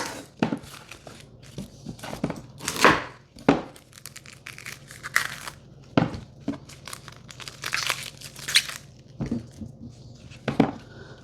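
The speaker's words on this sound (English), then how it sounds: "I may as well cut the onion right away too" Knife chopping onion for salsa in a home kitchen during canning, a series of sharp crisp cuts with irregular pauses, fairly close and moderately loud, no talking.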